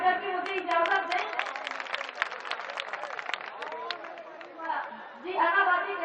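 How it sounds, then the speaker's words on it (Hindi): Audience at an all-India mushaira in Akbarpur claps in a steady crowd patter for several seconds, with voices and murmuring mixed through it and a louder burst near the end. "एक बार ताली बजा के मुझे इजाजत दें।"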